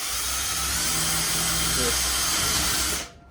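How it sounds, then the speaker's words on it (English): A loud, steady whine of a power drill boring into aluminum, running continuously for about three seconds before stopping abruptly. "you can just drill right into it"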